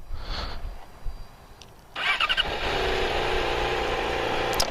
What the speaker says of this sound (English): So let's get the bike turned on first.